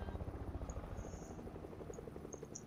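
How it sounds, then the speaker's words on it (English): A helicopter in the Fortnite video game beats with a steady, rapid rotor pulse, faint and distant, under a soft background hum with no voices. "Helicopter. No helicopters, we're gonna shoot you down."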